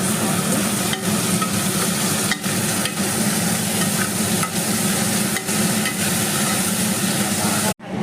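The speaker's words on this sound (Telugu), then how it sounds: "అండ్ వెజిటేబుల్స్ కూడా ఇక్కడ ఇలా అన్ని వెజిటేబుల్స్ కూడా బాగా మిక్స్ చేసుకోండి." Vegetables including capsicum are stirred and mixed in a pan for broken wheat and moong dal kichidi, a steady frying sizzle with scraping spoon strokes throughout, close and fairly loud.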